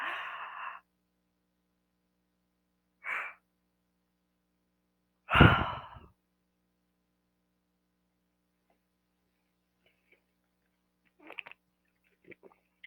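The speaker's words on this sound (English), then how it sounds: "You're going to hear me yawning, but energy is coming through." A person yawns and sighs softly several times in a quiet room, with short breathy exhalations spaced apart and faint mouth sounds near the end.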